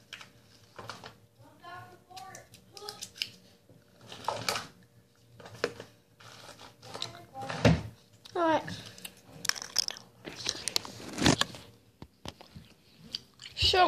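Gum is chewed close up with wet, smacking mouth sounds in irregular bursts, and a voice talks between and over the chewing.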